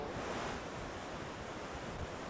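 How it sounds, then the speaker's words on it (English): Steady roar of Lower Yosemite Falls in Yosemite, broadband rushing water mixed with mist-driven wind buffeting the microphone, loud and continuous with no voices. "I'm out here by the Lower Yosemite Falls"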